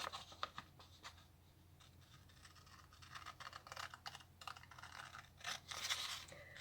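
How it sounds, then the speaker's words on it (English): Scissors cut out a paper luminary design with soft, close, irregular snipping and scratchy paper sounds, quiet and continuous throughout. "The next thing you need to do is cut it all out."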